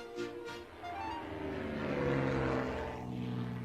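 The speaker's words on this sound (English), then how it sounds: "Percy heard the airplane zooming overhead all day." A cartoon propeller airplane drones overhead near an airfield, a steady rumbling engine hum that swells in the middle and eases off, heard alone.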